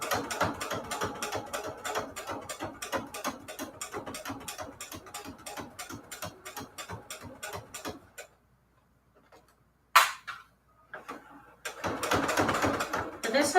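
A beginner sewing machine stitches patchwork banner fabric in a fast, steady mechanical chatter for about eight seconds, then goes quiet apart from a sharp knock and a brief second burst of stitching near the end.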